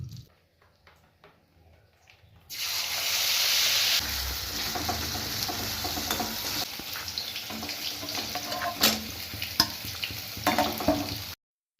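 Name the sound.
chicken frying in oil and butter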